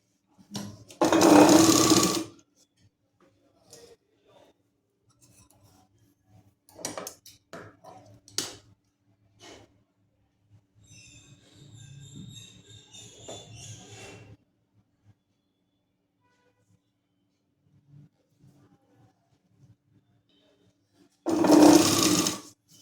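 Sewing machine stitching a folded salwar bottom strip in two short, loud bursts at start and end, separated by quiet handling taps and clicks of the fabric, close by.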